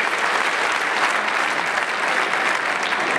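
Steady, dense applause from a studio audience at a celebrity ballroom dance tournament fills the whole stretch, loud and continuous with no pauses.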